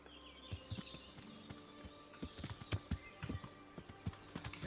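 Video-game horse hooves clip-clop in an irregular trotting rhythm, fairly close, with a few faint bird chirps in the background and no talking.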